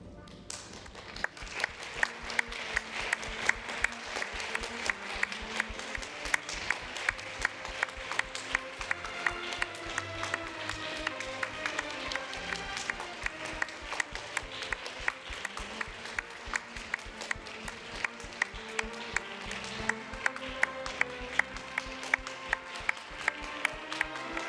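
Rhythmic, steady applause from an audience standing in an auditorium as judges leave a debate tournament, with dense rapid clapping held at an even level throughout and a faint musical or tonal layer beneath.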